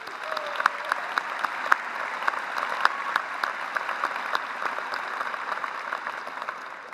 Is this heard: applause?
yes